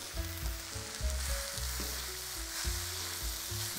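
Seitan tossed into vegetables frying in a dorm stir-fry pan, a steady sizzle with stirring scrapes and clatter throughout, no voices.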